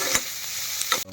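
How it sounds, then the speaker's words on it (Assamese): Pork sizzles and fries in a pan, with two distinct scraping stirs against the metal standing out over a steady hiss, close and fairly loud, ending abruptly. "ফ্ৰাই কৰি আছোঁ মই মাংসটো"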